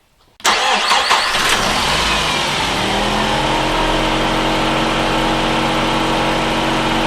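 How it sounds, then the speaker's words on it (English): An overheating Nissan X-Trail's engine cranks and catches, then settles into a loud, steady idle with the radiator fan's constant whooshing layered over the running motor. "You can hear that fan's just kicked in, so that's working as normal."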